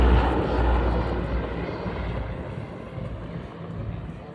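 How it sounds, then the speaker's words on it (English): A Lockheed P-38 Lightning with twin supercharged Allison engines roars past at an airshow, a loud, broad engine drone that swells and slowly fades as the fighter passes. "Had to listen to the sounds of those twin Allison engines as they go by right now"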